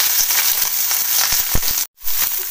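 Green chillies fry in hot oil in a pan, giving a steady, loud sizzle with scattered crackles and pops, with one brief break in the middle.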